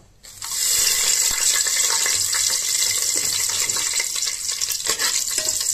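Split cardamom pods and a few cloves hit hot oil in a pan for a fish pulao, bursting into a loud, steady hiss of frying with occasional crackles and stirring scrapes, close and without talk.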